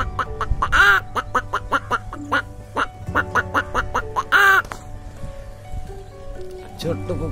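A voice imitates a hen's loud cackling after laying an egg, in repeated harmonic squawks and clucks that come in bursts, close and fairly loud.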